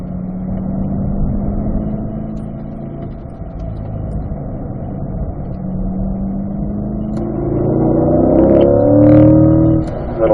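A Chevrolet Corvette C8 brakes and downshifts on the Spring Mountain track, its engine note droning steadily, then rising into a louder, harmonic-rich blip and rev near the end.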